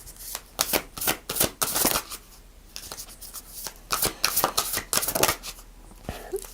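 Tarot cards shuffled in quick bursts of crisp riffling and flicking, loud and close, with short pauses between rounds and no talking.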